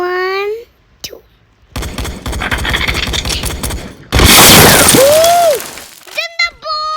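Gunfire and a bomb explosion in a Roblox shooting game: rapid bursts of shots, then a loud sustained blast with a descending whistle, as someone talks excitedly between the sounds.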